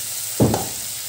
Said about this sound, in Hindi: अब डालेंगे टमाटर, टमाटर के बाद हम तुरंत ही डाल देंगे दाल